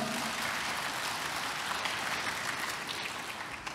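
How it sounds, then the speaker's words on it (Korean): An audience at a job fair concert applauds a presenter being introduced, with a steady wash of clapping that holds throughout and fades slightly toward the end. "큰 박수 부탁드리겠습니다."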